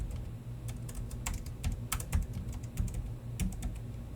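Rapid keystrokes on a computer keyboard, a quick irregular patter of light clicks close by in an otherwise quiet room, with no talking.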